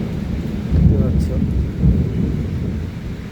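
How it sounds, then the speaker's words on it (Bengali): Heavy rain pours in a thunderstorm, a dense close roar with low thunder rumbling and swelling through the middle, loud and continuous with no voices. "প্রচণ্ড ঝড় বৃষ্টি হয়েছে।"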